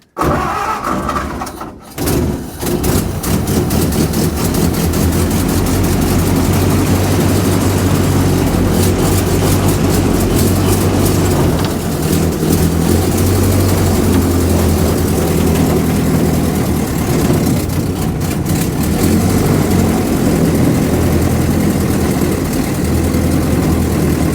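A 1929 Ford AA tow truck engine turns over and catches, then runs steadily with a loud, constant rattling idle that fills the whole stretch, close by and with no talking.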